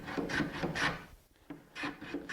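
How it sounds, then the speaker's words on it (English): A hand plane shaves wood while shaping a carved tool handle, rhythmic rasping strokes repeating in quick succession, close and moderately soft, with a brief pause midway. "And now it's a matter of planing to the line."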